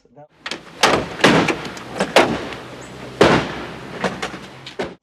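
Car doors being slammed shut several times in quick succession nearby, sharp loud thuds spaced irregularly, with faint background noise between them.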